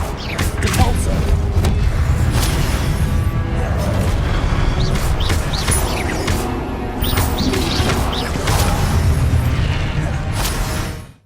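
A Depulso spell goes off in the Hogwarts Legacy video game as a loud, dense burst of magical crashes and impacts over continuous game sound that runs for about ten seconds before cutting off.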